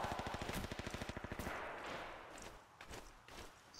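Rapid automatic gunfire in the World War II shooter Rising Storm/Red Orchestra 2, a loud, fast burst of evenly spaced shots over about a second and a half, followed by scattered distant shots and battlefield noise.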